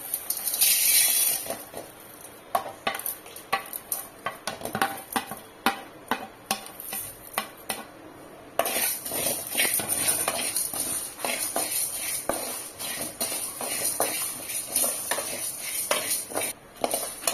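Spices and lentils dry roasting in a kadai over a low flame, with dense light crackling and scraping as they are stirred, steady and close, a sharper hiss at the start and a brief louder stretch partway through, with no talking.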